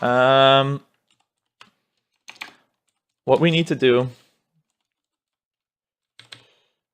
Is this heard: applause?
no